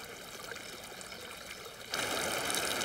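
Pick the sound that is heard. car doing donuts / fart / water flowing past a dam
water flowing past a dam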